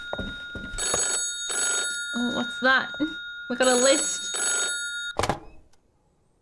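A telephone rings in bursts of an electronic bell in the indie game The Berlin Apartment, several rings interleaved with someone talking over them, ending with a thunk and silence.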